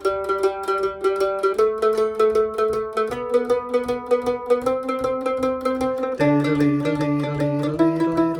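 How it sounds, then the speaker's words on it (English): A mandolin plucks a lively melody of fast notes with a lilting, uneven swing, bright and up close, playing alone without voices. "Swung 16th notes in the modern count sounds like this."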